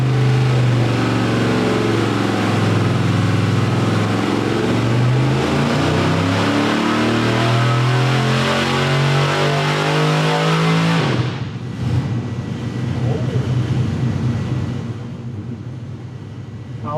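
A 450 hp small-block Chevy engine on a dyno pull with a 1.6 exhaust rocker arm fitted roars loud and steady at high revs for about eleven seconds, then abruptly drops off to a rougher, lower idle-like rumble.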